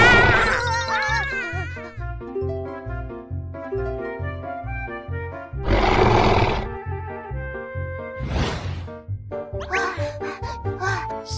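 Cartoon Tyrannosaurus rex roar over a pulsing, bouncy music bed, with several loud, rough bursts rising above the tune; no talking is heard.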